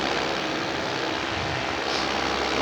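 Four-stroke paramotor engine cruising around 6,000 RPM while flying a Triox 2 35-meter wing, a steady, loud, droning buzz heard in flight with continuous wind rush.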